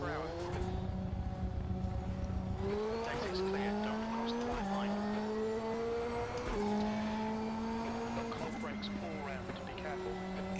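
Race car engine in the video game RaceRoom whines in steady tones, shifting gears in stepped rises and drops, with tire squeals and talking over it.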